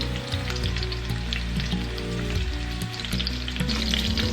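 Steak sizzles and spits in a hot pan over medium-high heat, a steady, close crackling fry with no voices.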